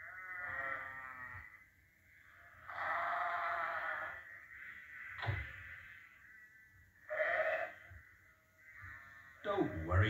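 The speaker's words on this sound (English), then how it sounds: "It was Alf Thompson driving his sheep across the road" Several sheep being driven across a road bleat close by, long wavering cries in a slow irregular sequence, with quieter stretches between calls.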